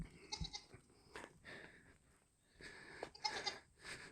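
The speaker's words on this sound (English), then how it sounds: "a couple of our goats are out here" Goats bleat inside a homestead barn near the livestock stalls, a few raspy, breathy calls spread across several seconds with rustling between them, close and moderately loud, with no talk.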